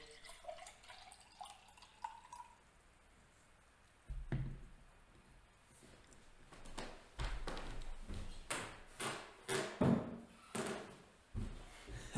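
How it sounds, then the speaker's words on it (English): Coffee poured into a cup, heard as a run of intermittent splashing and dripping bursts, fairly close and moderately loud, with faint background noise and no talk. "I'm gonna pour a little coffee."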